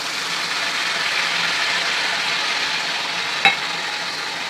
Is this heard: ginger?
yes